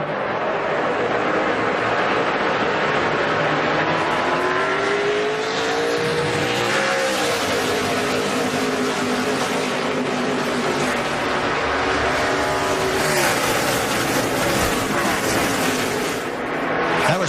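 NASCAR race cars at the 2011 STP 300 roar back to full speed on a green-flag restart, a dense, continuous engine drone with rising revs and passing whines, loud and unbroken throughout.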